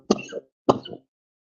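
Two sharp coughs close to the mic, each followed by a short throat-clearing rasp, separated by a brief pause.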